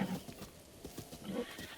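A horse in The Legend of Zelda: Breath of the Wild gives a short, faint whinny, with soft hoof clip-clops around it.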